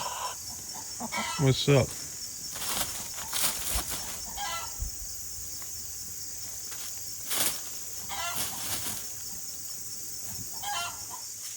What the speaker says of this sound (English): these guys are golden Wyandottes